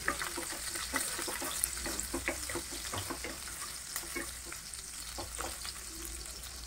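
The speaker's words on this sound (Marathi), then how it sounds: "तेल कडकडलं की त्यामध्ये 10 ते 12 लसणाच्या पाकळ्या बारीक चिरून घेतलेल्या आहेत, त्या परतून घ्यायच्या।" Finely chopped garlic cloves sizzle and crackle steadily in hot oil for a garlic methi dish, with intermittent stirring scrapes and clicks running throughout.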